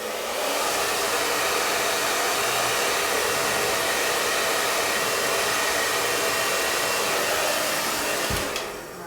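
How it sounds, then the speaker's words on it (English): A hair dryer blows hot air onto a WoodUBend moulding being curved onto furniture, a steady, loud whooshing whir that holds for about eight seconds before cutting off. "I'm just gonna hit it with the hairdryer one more time"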